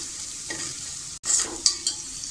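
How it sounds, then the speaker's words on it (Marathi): Mixed garam masala spice blend sautéing in a pan for a bottle gourd and chana dal dish: a short, soft hiss with light stirring scrapes, broken by a brief gap and a few sharper clinks near the end. "तोही व्यवस्थित परतून घेऊया."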